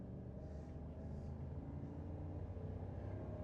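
A high-mileage Chevy Silverado with the 6.6L L8T V8 accelerates uphill, a low, steady engine drone and road rumble heard from inside the cab, fairly quiet and even throughout.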